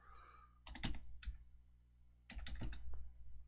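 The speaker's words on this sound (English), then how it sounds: "you can hear me hitting the keyboard" Two bursts of rapid keyboard typing, close and fairly loud, separated by a short quiet pause.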